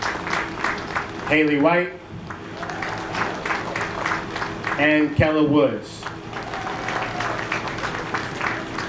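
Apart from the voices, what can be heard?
audience applause for the sideline cheer team at an awards ceremony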